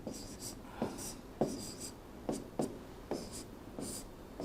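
Pen or chalk writing out an equation during a physics lesson on a current electricity bridge problem, with a series of short scratchy strokes at irregular intervals, close and fairly quiet, no talking.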